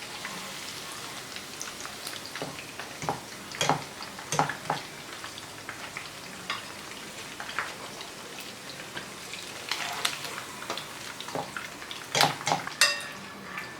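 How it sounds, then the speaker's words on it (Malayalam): Fried chicken for chilli chicken being lifted out of hot oil, a continuous fine sizzle and crackle with scattered metallic scoops and clinks of a ladle against the pan. "ഇനി നമുക്ക് എണ്ണയിൽ നിന്ന് കോരി മാറ്റാം."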